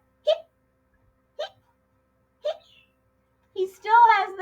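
A voice imitates a skeleton's hiccups with three short, evenly spaced hic sounds separated by silence, then speaks briefly.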